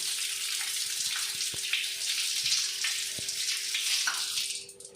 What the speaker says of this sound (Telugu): ఇప్పుడు వాటర్తో నీట్గా మనం దీన్ని వాష్ చేసుకోవాలి.